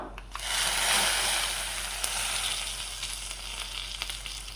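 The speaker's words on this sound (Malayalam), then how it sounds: "ഇതാ വറവ് നമുക്ക് കറിയിലേക്ക് ഒന്ന് ഒഴിച്ചു കൊടുക്കാം" A hot tempering of mustard seeds, fenugreek and dried red chilies poured into carrot pulisseri bursts into a loud sizzle that slowly fades into a softer crackling hiss.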